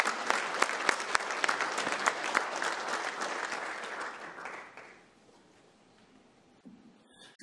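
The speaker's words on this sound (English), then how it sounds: "Give the Lord a hand clap of praise." A church congregation claps in praise, brisk and fairly loud for about five seconds, then fades away, leaving a quiet room with a few faint stray sounds.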